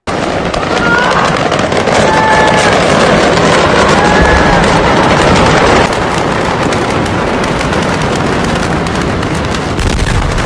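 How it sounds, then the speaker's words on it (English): A factory explosion captured on a phone sounds as a dense, loud, continuous roar of crackling blasts and booms, harsh and sustained throughout with no clear pauses. "this might have possibly been right when the first explosion happened"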